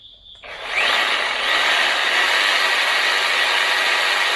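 A Bosch jigsaw runs off a Bluetti EB3A portable power station. It starts with a quick rising whir and then holds a loud, steady, high-pitched motor whine up close.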